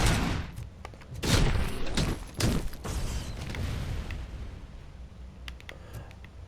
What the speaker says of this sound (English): Awful lot of explosions going on around here.